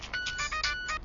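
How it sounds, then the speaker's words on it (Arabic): Telephone ringing indoors with a bright electronic warble in quick pulsing bursts, short and clear with nothing else over it. "يا دي التليفون اللي بيبطلش رن."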